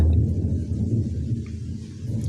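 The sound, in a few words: thunder during heavy rain outside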